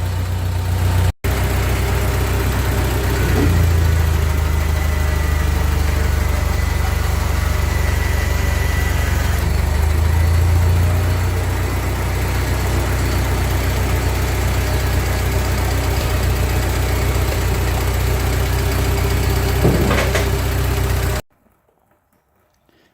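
A 1945 Ford 2N loader tractor engine idling nearby, a steady low rumble that runs evenly for about twenty seconds before cutting off abruptly into silence.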